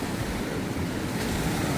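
Ocean waves and rushing water at an Australian beach, a loud, continuous broadband roar of surf with wind buffeting the microphone and no voices.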